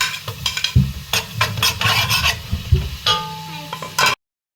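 Onion frying with garlic and pepper in oil in a pan, heard as a loud close sizzle broken by repeated scraping stirs, irregular bursts of spoon strokes, stopping abruptly at the end.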